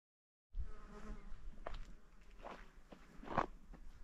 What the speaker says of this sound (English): that's a lot of bugs.